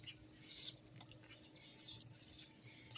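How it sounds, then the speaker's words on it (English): Many birds chirp outdoors in a jungle-like setting, with repeated high tweeting calls in short bursts and a faint low hum beneath, fairly close and with no talking. "Only it's like all these birds."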